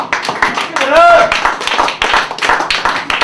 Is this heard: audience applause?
yes